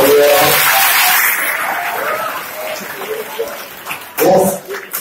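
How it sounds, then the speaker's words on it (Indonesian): Audience clapping at a motivational event at a Quran-memorisation Islamic boarding school, a fairly close burst of applause that thins out, with voices speaking over it near the end. "tepuk tangan buat mereka yang berdua"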